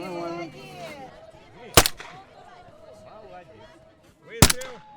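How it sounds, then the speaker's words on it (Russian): At a Maslenitsa festival at the Muranovo estate, two sharp loud shots from a gun or small cannon ring out a few seconds apart over a backdrop of chatter, voices and festive crowd noise. "Выстрел!"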